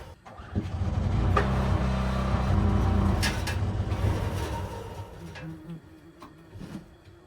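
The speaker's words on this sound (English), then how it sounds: "So it's bogging down the compressor, or the generator." A generator engine on a honey farm labors and bogs down under an air compressor's load. The loud, rough, continuous rumble runs close by and sags and thins out toward the end.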